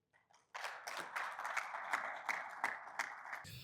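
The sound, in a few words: audience applause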